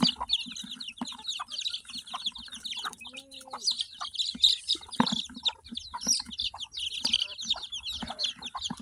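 Chicks and a hen cluck and peep near a coop as the chicks are being moved in, with busy overlapping clucks and high chirps filling the whole stretch alongside some handling noise.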